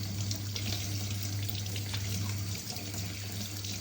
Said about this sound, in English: You have to rinse your hand.